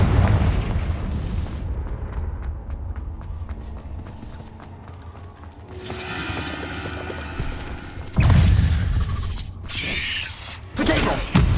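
Confringo blasts explode in Hogwarts Legacy combat, with heavy booming bursts, the loudest slam landing late, over rumbling mechanical and crackling game effects with no talk.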